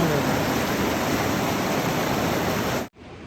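River water flows beside a campsite on the Appalachian Trail, a loud, steady rushing that fills the clip without a break, then cuts off abruptly near the end to a quieter rush.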